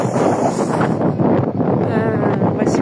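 Strong wind by the sea buffets the microphone in a loud, steady roar that goes on throughout.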